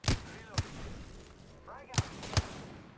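Gunfire in the Apex Legends battle royale game: four sharp, loud shots spaced irregularly across a busy game soundscape, each a short broadband crack with a low thump.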